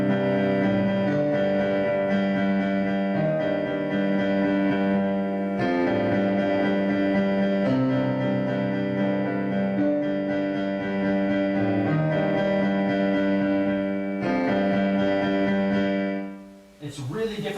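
Piano played with the sustain pedal held, so the notes ring together into a continuous wash of tones that swells in a few phrases before fading away at the end.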